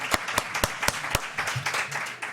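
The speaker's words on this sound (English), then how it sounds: "Okay, yeah, we can applaud that." A small conference audience claps, the first few beats slow and distinct, then thickening into a brief, moderately quiet patter of scattered hands that tapers off.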